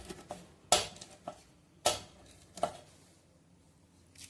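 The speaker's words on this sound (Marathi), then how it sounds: "अशाच प्रकारे आपण पूर्ण आंबे कापून घ्यायचे आहे." Knife cutting raw green mangoes for homemade pickle, heard as a few separate sharp chops and clacks on a board with quiet pauses between them, no talking.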